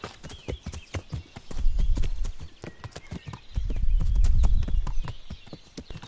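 Quick, even clip-clop of a ridden horse's hooves in Kingdom Come: Deliverance, close and steady, with two swells of low rumbling movement beneath the rhythmic strikes.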